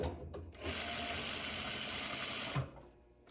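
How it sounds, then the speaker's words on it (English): A sewing machine stitching a curved seam cut on the bias in a top, a steady fast mechanical whir running for a couple of seconds before stopping, close and fairly loud. "You're just controlling your seam a little bit better while you sew."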